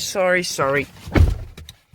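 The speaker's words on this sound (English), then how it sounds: "Let's close the door." A 2015 Audi Q5 TDI Quattro door is pulled shut from inside the cabin, giving one solid thud close by. A person speaks briefly just before the door closes.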